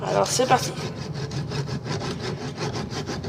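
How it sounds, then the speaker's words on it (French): Hand saw cutting in short back-and-forth strokes through a battery, a steady rasping rhythm close by, with someone speaking briefly at the start. "Une scie comme ça, préférablement."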